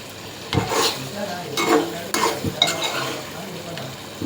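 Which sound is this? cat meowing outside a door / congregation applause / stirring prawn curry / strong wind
stirring prawn curry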